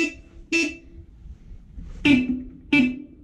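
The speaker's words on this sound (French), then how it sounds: "J'en vois qu'un, moi, le klaxon." Two-tone car horn of a vintage Renault Celtaquatre, four short, close honks in an uneven rhythm with quiet gaps between.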